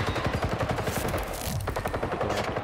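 Rapid automatic gunfire in a video game, a dense rattling burst of shots that briefly pauses and then resumes, loud and close.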